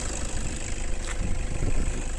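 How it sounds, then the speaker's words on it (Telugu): A 2016 Toyota Innova 2.5 V diesel engine idles steadily, a low continuous rumble with mild vibration heard up close and alone. "ఇంజన్ సౌండ్ మాత్రం ఓకే ఉన్నది"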